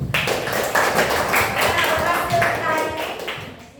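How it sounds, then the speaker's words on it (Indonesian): A classroom of students claps together at the end of an Indonesian-language lesson activity, a steady patter of hands running throughout with voices mixed in. "Dan coba kita beri tepuk tangan untuk kita semua."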